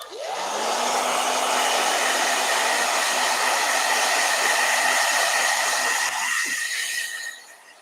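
A blow dryer starts with a rising whine, then runs loud and steady with a constant hissing roar for several seconds before switching off and winding down.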